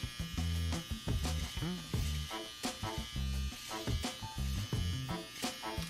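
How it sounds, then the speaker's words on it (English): An electric beard trimmer, held inverted, buzzes in short repeated bursts as it crisps a V-shaped beard neckline, loud and close with brief pauses between passes. "I'm going to take my trimmer inverted"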